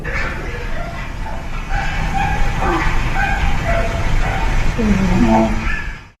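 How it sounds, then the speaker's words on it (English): Bark-like and yelping sounds come from a ghost-hunt voice recorder left in a room at Waverly Hills Sanatorium. Several short dog-like calls are heard through loud, steady hiss, and a voice is faintly present. "that totally sounds like a dog to me"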